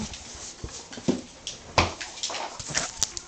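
A dog whimpers and yips in short, uneven bursts close by, with small cries and breathy sounds over a quiet room background.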